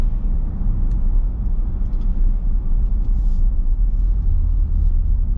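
A 2021 LDV D90 SUV with a 2-litre bi-turbo diesel pulls away from a standstill, a steady, loud low rumble of engine and road noise running throughout with no talking.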